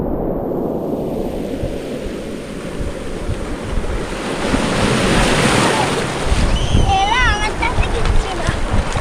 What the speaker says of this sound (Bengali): এই একটা বড় ঢেউ আসছে